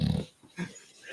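A dog snorts and huffs up close in a room, a few short, rough nasal bursts spaced irregularly, with no talking.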